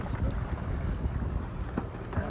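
Large river launch boat passing nearby, heard as a low rumbling engine drone mixed with wind buffeting the microphone and water noise, continuous throughout.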